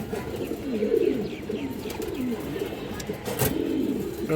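Large, high-quality pigeons coo in low, throaty bursts close by, repeating over a few seconds with some background noise.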